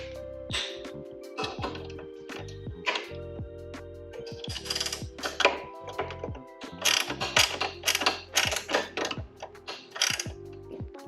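A flex head ratchet tightening a bolt on a motorcycle fairing, rapid clicking bursts of the pawl in repeated strokes with short pauses between, close and clear, no talking.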